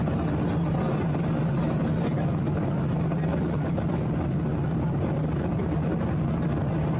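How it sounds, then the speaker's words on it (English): A steady, continuous engine drone of a plane passing overhead, loud and unbroken with a low rumbling hum and broadband roar that holds level throughout, no talk. "You can hear the plane, obviously,"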